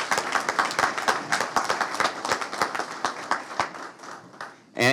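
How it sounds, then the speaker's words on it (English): A lively round of applause from an audience at a South Carolina school report card news conference, dense continuous clapping that thins out toward the end before a voice begins to speak. "let's give them a round of applause."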